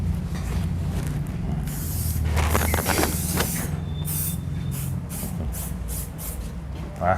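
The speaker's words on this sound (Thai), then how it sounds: "ขอสเปรย์หน่อยนิดหนึ่ง" Hair spray misted at a barber shop in several hissing bursts, a longer spray early on followed by a run of short puffs, close and fairly loud.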